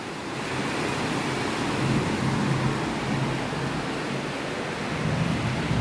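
Steady rain falling outside during the monsoon season, a continuous dense hiss of drops with no breaks, moderately loud and close, with no voices over it.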